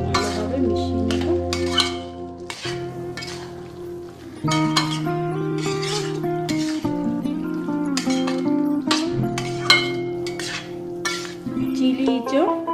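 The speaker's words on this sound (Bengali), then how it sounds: "ভালোভাবে মিশিয়ে নেব।" A spoon scrapes and clinks in a pan as chili jackfruit curry with garam masala and ghee is stirred and mixed, a close, busy clatter over a steady background tone.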